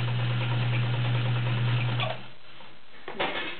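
Vintage Kenmore Model 1207 sewing machine running a straight stitch: a loud, steady motor hum with fast needle ticking for about two seconds, then it stops and a few soft handling clicks follow.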